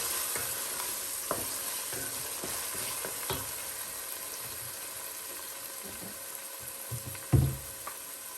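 Faint, steady sizzle of beef skin sautéing with onions, with scattered soft scrapes and knocks as the mixture is stirred and one louder clatter near the end, no talking.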